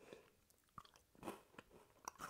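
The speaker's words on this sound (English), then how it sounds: "The crunch is nice as always from the Kit Kat" Someone bites into a Kit Kat chocolate frosted donut, giving a few short, soft crunches and chewing sounds close to the mic in an otherwise quiet room.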